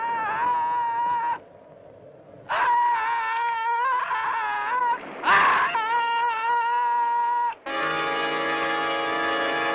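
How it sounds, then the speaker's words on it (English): Screams of a man being eaten alive in a 1964 horror film, The Flesh Eaters: loud, wavering, tonal wails and cries in several long bursts, separated by brief quieter gaps. "Listen to those screams."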